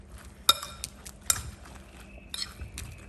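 A utensil clinks and scrapes against a bowl while capsicum and spinach pie filling is mixed, with a few sharp metallic taps and softer stirring sounds in between, fairly close and with no one speaking.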